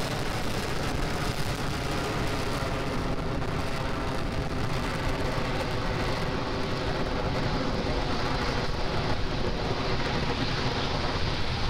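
A SpaceX Falcon 9 rocket at liftoff on the ANASIS-II mission, its engines giving a continuous, dense, rumbling roar that stays steady and loud for the full stretch, with no voices.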